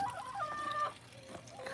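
Chickens cluck and squawk in a short burst, with a drawn-out crowing-like call and a few softer clucks, fairly faint and alone.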